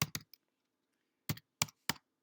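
Typing on a small computer keyboard, sparse sharp key clicks close to the mic: a quick cluster of three strikes, a pause of about a second, then three more evenly spaced presses.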